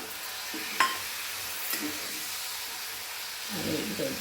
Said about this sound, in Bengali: এটার মধ্যে হলুদ, লঙ্কা, জিরে, ধনে গুঁড়ো দিয়ে কষছি